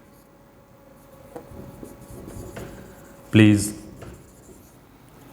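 A teacher writes out the complimentary close of a letter with soft scratchy strokes in short separate bursts, and a voice briefly speaks a word partway through.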